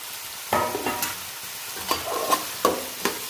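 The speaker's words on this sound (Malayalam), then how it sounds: "നല്ല രീതിയിൽ ഇളക്കുക" Chopped tomatoes fry in masala for crab biryani, a close sizzle punctuated by a handful of rhythmic scraping stirs and spoon knocks against the pan.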